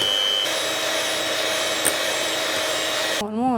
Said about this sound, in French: on va pouvoir passer au montage des blancs